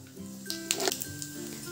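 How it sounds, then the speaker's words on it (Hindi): Cumin seeds crackle in hot desi ghee in a pan while a tadka is being prepared. A few soft, scattered pops and sizzles sound close but quiet, with no talking. "जीरा चिटक चुका है"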